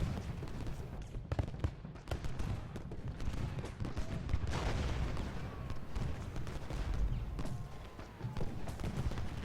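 Artillery and gunfire in a Gettysburg battle in the strategy game Ultimate General: Gettysburg, a steady wash of distant booms and rattling volleys running throughout without pause.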